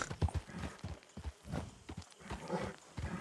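A horse's hooves clip-clop in Red Dead Redemption II, a quiet, uneven run of hoofbeats with a brief whinny-like sound early on and no speech.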